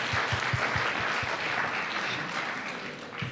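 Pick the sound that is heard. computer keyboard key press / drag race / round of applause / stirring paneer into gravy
round of applause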